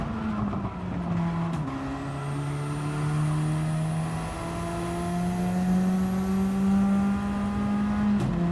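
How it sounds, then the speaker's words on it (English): Race car engine in a no-assist sim racing game, engine note dropping in steps through rapid downshifts to second gear under late braking, then pulling steadily again; loud and continuous, no talking. "Probably braked a little bit too late there and we dropped right down the gears to second"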